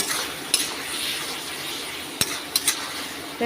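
A spoon stirs tomato chutney with a little turmeric in a pan, soft scraping and sizzle with a few light metallic clinks, fairly quiet and with no talk.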